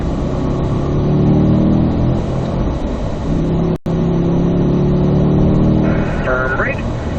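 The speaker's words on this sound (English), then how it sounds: "accelerate up the hill" A Corvette accelerates uphill on a race track, its engine note droning loud and close and rising steadily, with a brief cut midway and a voice talking over it.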